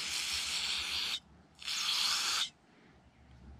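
Carburetor cleaner sprayed into the small passages of a carburetor on an 8hp Tomahawk chipper shredder, heard as two close, steady hissing bursts, each about a second long, with a brief pause between them.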